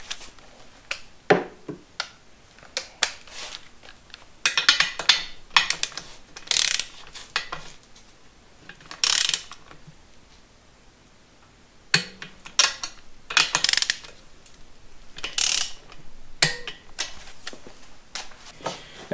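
A torque wrench ratchets in quick clicking runs while bolts on a Corvair 102hp engine are tightened, with short close bursts separated by pauses.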